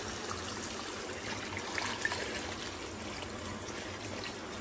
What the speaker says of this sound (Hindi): बाकी हम इसमें पानी डालेंगे।